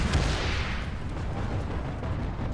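Gunfire in the online shooter Planetside 2, a steady dense rumble of distant battle with booming low-end shots running throughout, no talk.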